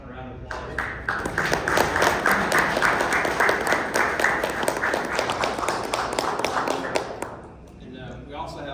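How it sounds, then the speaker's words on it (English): An outdoor crowd at a lineman appreciation ceremony at the Tennessee State Capitol claps in a sustained round of applause that rises quickly, holds for several seconds and then fades. "A round of applause."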